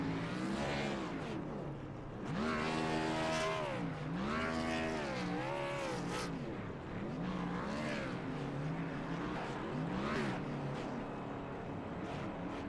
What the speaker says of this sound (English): He's going to send us off with some celebratory donuts.